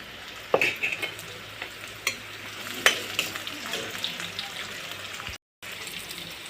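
Onions frying in a pan for an Assamese meat curry, a steady close sizzle broken by sharp stirring scrapes and clinks of a spoon, with a short drop to silence near the end.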